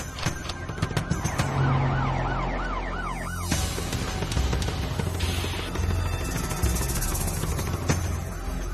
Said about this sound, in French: J'entendais la sirène, j'étais stressé.